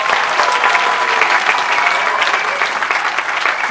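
A studio audience at a love-and-marriage game show bursts into a sustained round of applause for the competing couples, loud, dense clapping filling the whole moment without any talking.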